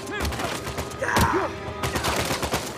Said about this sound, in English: Please stop shooting me in the back like a douchebag